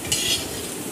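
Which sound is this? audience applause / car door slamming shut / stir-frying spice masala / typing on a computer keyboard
stir-frying spice masala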